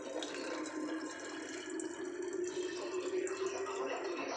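Water pours into an HGW hypochlorite generator in a steady, moderately loud stream. The splashing and gurgling runs throughout with no talk over it.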